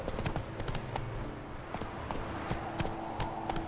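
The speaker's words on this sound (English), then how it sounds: "Come on, Roach" Steady clip-clopping hooves of the horse Roach in The Witcher 3 video game, a continuous walking rhythm close by over a faint game ambience, with no talking.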